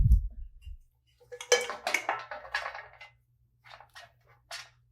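Shrimp salad ingredients set down on a metal sheet pan in a kitchen, giving a few soft clinks and scrapes of the pan. A series of short scrapes and taps clusters near the middle, with a few faint knocks after it.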